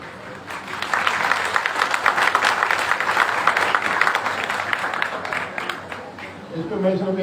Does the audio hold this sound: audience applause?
yes